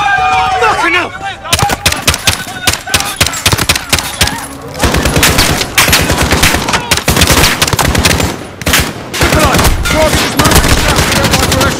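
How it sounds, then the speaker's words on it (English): Rapid bursts of automatic gunfire in Call of Duty: Modern Warfare, loud and close, keep crackling almost without pause, with a brief voice heard at the very start. "The gunshots, of course."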